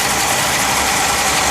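A 1970 Oldsmobile Cutlass convertible engine idles steadily and close, a loud continuous rumble with an even, unchanging drone and no voices.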